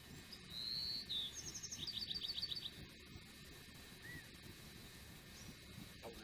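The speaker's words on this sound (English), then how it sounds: "That one right there was a California quail." Bird calls from a California quail and other birds in an outdoor western setting: a couple of clear whistled calls followed by a rapid series of short chirps, fairly close, over steady low background rumble, with no talking.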